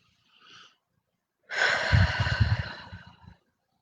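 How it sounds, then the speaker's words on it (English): A person breathing deeply in a quiet room: a short, soft inhale, a pause, then one long, loud, breathy exhale that rasps for nearly two seconds before fading out. "Couple deep breaths."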